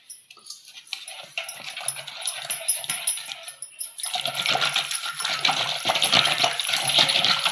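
Semolina pours into a wheat flour cake batter with a dry, grainy rattling and rustle that grows louder and denser toward the end, close up and with no talk.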